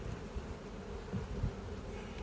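Honeybees hum low and steady inside an open hive at an apiary, a faint continuous drone with a few slightly louder buzzing swells.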